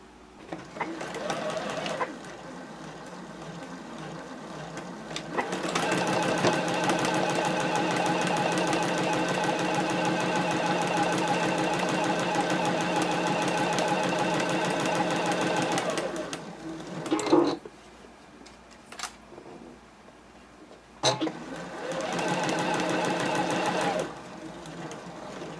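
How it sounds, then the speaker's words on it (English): Sewing machine stitching the side seams of a doll dress, running in long steady bursts of whirring with short pauses between seams, close and fairly loud. "So now it's time to sew together the front and back pieces at the side seams."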